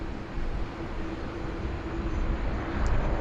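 A Qantas Airbus A330 departs Sydney Airport as a steady, distant jet roar blended into heavy rain and wind, swelling slightly toward the end.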